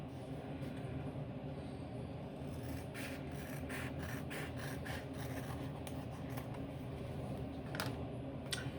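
Rhythmic rasping strokes of fine sandpaper rub back and forth over a plastic model kit surface, steady and close, with a constant low hum underneath.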